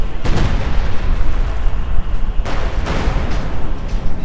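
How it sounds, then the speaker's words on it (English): Mortar and artillery blasts in Company of Heroes 2: loud, dense booming explosions roll on continuously, with sharper bursts landing around the half-second mark and again near two and a half seconds. "Mortar nearby."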